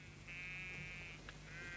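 Sheep bleating in a nineteenth-century anthrax experiment scene, with two sustained nasal bleats separated by a brief click, sitting over a steady low hum and background noise.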